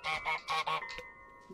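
A cartoon goose in Untitled Goose Game honks four times in quick succession, bright and nasal, then a softer honk trails off. There is no talk.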